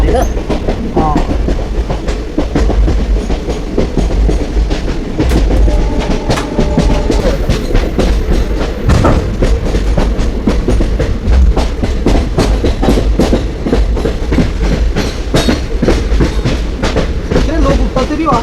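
Poorna Express passenger train on the Pune to Madgaon route rolling along the rails, with a steady loud rumble and rhythmic clickety-clack of wheels over joints throughout, heard from inside the coach.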